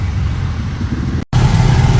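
The motorized tricycle engine drones loud and close while riding, a continuous rough low rumble. It cuts out for a split second, then returns just as strong.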